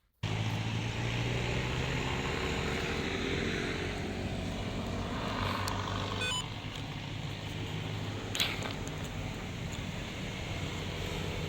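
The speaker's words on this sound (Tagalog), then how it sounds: "Ingay pa rin. Dami pa rin sasakyan eh." Continuous roar of traffic on a busy main road fills the whole clip, a dense engine rumble with no pauses and a brief higher tone near the end.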